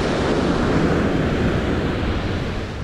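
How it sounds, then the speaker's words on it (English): Ocean surf washes onto a California beach as a loud, continuous broadband roar, blended with wind buffeting the microphone and no voices. "The waves are not too bad right now."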